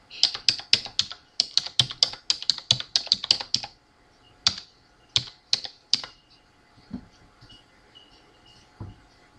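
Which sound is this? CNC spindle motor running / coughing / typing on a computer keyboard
typing on a computer keyboard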